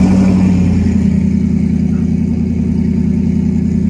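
A Ford S550 Mustang GT fitted with an S475 T6 turbo idles, heard from close by as a loud, steady low rumble with a constant engine drone and no revving.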